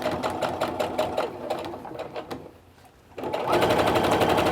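A sewing machine stitching strips of quilt fabric for a diamond quilt, a fast close mechanical whir and rapid needle chatter that pauses briefly, then resumes at full speed, with no voices.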